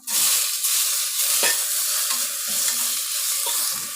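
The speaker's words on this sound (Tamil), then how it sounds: "இப்போ தக்காளி போட்டு நல்லா வதங்கிடுச்சு" Tomatoes sautéing in a pan produce a dense, steady hiss, with occasional soft stirring scrapes. The sound is close and continuous, and no one speaks.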